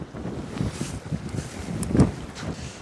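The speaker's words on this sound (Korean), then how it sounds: "미친 바람이" Strong wind buffets a boat at sea during rockfish fishing, a loud rough roar pressing on the microphone with gusting surges and a sharper blast near the end.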